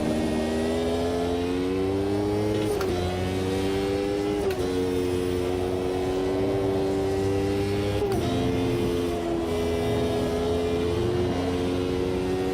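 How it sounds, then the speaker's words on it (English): A 1991-1996 era F1 race car engine in the Automobilista 2 racing game at Catalunya, a loud sustained high whine holding steady revs with a few brief shifts in pitch, sounding rough and not quite right. "That engine doesn't sound right"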